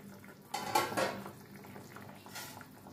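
A lid comes off a cooking pot of potatoes, ridged gourd and prawns with a brief metallic clatter and scrape, followed by a quieter clink and low bubbling of the simmering curry.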